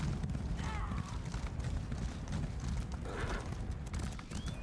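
Rapid clip-clop of horse hooves at a galloping pace under a low rumbling background, with a faint whinny partway through, from The Elder Scrolls Online video game.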